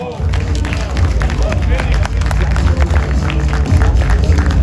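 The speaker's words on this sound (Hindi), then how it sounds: "जोरदार तालियां हो जाए इनके लिए।" An audience claps steadily at a film trailer launch event on stage, the applause loud and continuous throughout with some crowd murmur mixed in.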